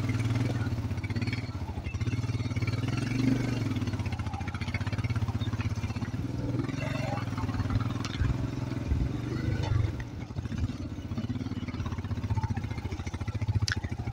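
A motorbike engine labours steadily up a steep, narrow jungle walking trail toward Nag Tibba base camp, a low rumbling drone close by with uneven throttle surges and clattering over rough ground.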